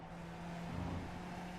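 A race car engine drones steadily and rises slightly as the car accelerates at Zandvoort in the iRacing sim, a continuous loud engine tone with no pauses.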